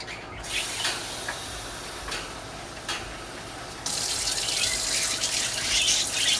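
Water is poured into a cooking pot while making blueberry dessert dumplings. Quiet background clatter and a few soft knocks lead into a loud, steady, splashing gush that begins partway through and keeps going to the end.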